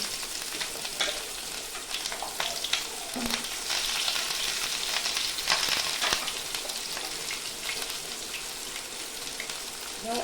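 Bay leaves, whole garam masala, cumin seeds and a little onion frying in hot oil, a close, steady crackling sizzle with occasional spatters and stirring scrapes, no talk.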